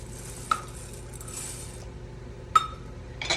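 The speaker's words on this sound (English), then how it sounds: "What I'm going to do right now is I'm going to add my cup of macaroni." Dry macaroni goes into a pot of minestrone soup, with two distinct clinks of metal against the pot and a soft stirring rustle in between, close and fairly quiet, with no talking.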